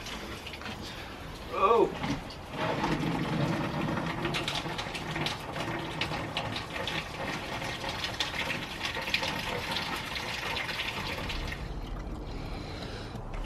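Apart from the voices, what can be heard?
car coolant draining out of the radiator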